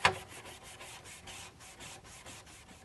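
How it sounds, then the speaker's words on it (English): Steady, rhythmic scrubbing strokes on the water distribution unit of a water flow system, a dozen or so brisk back-and-forth rubs heard close and alone after a short sharp scrape at the start. "all you're going to need to do is just scrub the water distribution unit"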